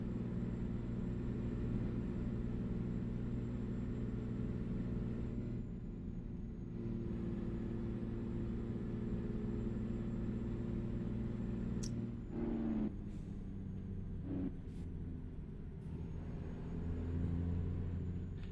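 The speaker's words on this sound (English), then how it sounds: "This mod truck sounds fantastic." A modified truck engine idles steadily in a garage, giving a continuous low rumble with a brief dip in the middle and a few sharp clicks near the end.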